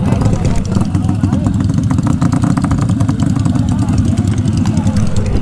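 A Yamaha Sniper two-stroke motorcycle engine runs loud and close at a motor show, a steady buzzing drone with crackling exhaust pulses and a crowd murmuring around it.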